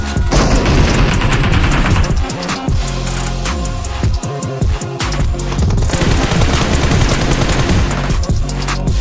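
Dense, continuous automatic gunfire in the mobile battle royale game PUBG Mobile, with overlapping bursts and heavy booming shots filling the whole stretch, loud and close, with no speech.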